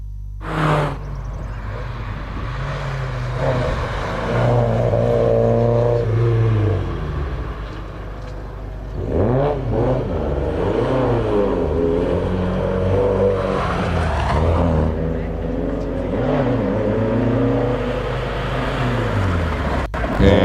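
A Ford Escort race car climbs a hillclimb course, its engine rising and falling through repeated revving and gear changes, loud and continuous with a brief lull midway.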